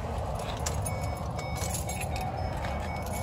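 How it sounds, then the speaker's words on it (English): Car keys jingle and clink in a continuous metallic rattle as they are pulled from a parked van. A steady low rumble runs underneath, and no one speaks. "And take my keys."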